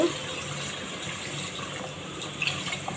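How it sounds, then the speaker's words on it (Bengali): A steady stream of water pours continuously into a cooking pot of fish, a close, even gushing rush throughout. "এটার মধ্যে একটু পানি দিয়ে দেব"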